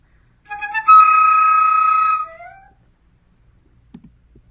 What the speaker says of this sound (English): Let's first listen to the flute.